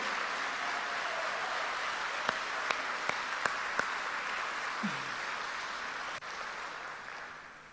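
A church congregation applauds, a soft, distant wash of steady clapping with a few sharper individual claps standing out before it fades.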